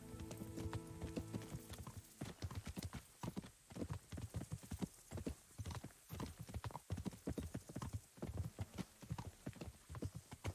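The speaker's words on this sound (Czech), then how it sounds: "Tam jsou nějaký koně." Horses at a stable in the video game Kingdom Come: Deliverance clop along in an uneven, close rhythm of hoofbeats, with a brief musical tone at the start and no voices.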